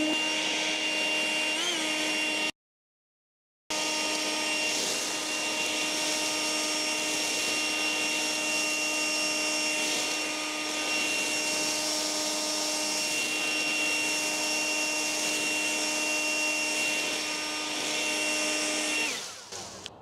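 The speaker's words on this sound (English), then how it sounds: "So now let me show you what these blowers can do, moving this leaf pile." Echo eForce battery leaf blower at full throttle in non-turbo mode, a steady high-pitched electric whine and rushing air clearing a leaf pile, close and continuous apart from one short break, then cutting off at the end.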